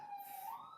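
Emergency vehicle siren wailing outside, a steady rising tone heard faintly at a distance, with no voices.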